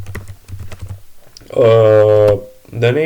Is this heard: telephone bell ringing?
no